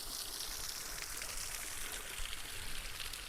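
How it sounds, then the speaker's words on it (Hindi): A mountain waterfall pours down outside a cave in green forest, heard as a steady, dense hiss of rushing water, continuous and fairly close with no voices. "कितना सुंदर झरना गिर रहा है पहाड़ों से।"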